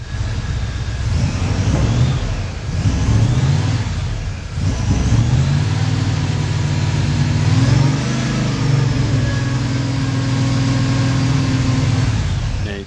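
A Holden 5.0-litre V8 engine in a ute, recently repaired after being blown, idles roughly and then revs up several times, rumbling deep and loud up close, with no voices.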